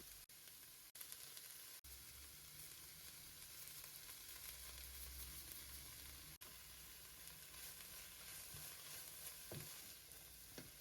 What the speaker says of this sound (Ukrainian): Пасирую, аби зам'якла капуста.